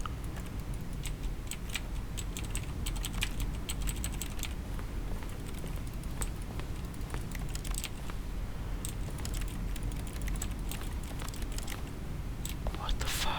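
Rapid keyboard typing and clicking in the video game The Stanley Parable, a continuous clatter of keys over a steady room hum, with scattered louder clicks throughout.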